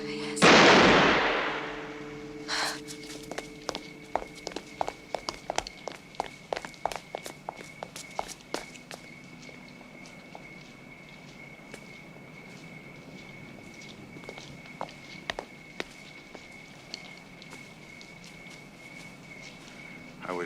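Footsteps tap in an irregular series of sharp, close steps that thin out and fade, following a loud rushing burst at the start, with a faint steady tone in the background.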